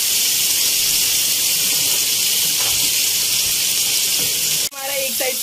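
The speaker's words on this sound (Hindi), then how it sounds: "इस ग्रेवी को हमें इस ऑयल में पकाना है जब तक हमारा ऑयल अलग नहीं हो जाता" Spice paste and gravy sizzle and hiss in hot oil over a low-to-high flame, a loud steady frying crackle that breaks off briefly near the end, with a voice talking.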